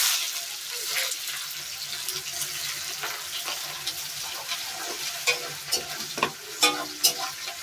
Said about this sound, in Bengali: পেঁয়াজটা ভাজা হচ্ছে, দেখো পেঁয়াজটা ভাজা হচ্ছে কড়াইতে।